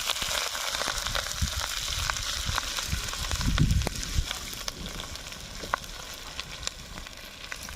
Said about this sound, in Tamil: எண்ணெய் சூடாயிருச்சு, கடுகு ஆட் பண்ணிக்கலாம்.